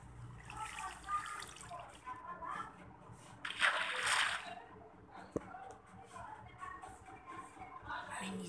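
Water pours and splashes from an iron bucket in a blocky crafting video game, sloshing in bursts with a louder gush midway while someone talks throughout.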